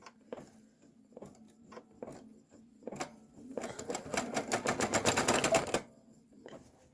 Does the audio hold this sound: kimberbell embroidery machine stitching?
yes